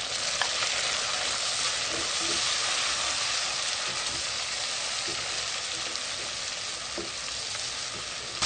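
Tomatoes hit browned onions, garlic and cumin frying in a pan for kachnar keema, producing a constant loud sizzle with occasional soft stirring clicks and no voices.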